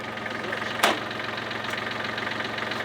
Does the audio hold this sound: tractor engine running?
yes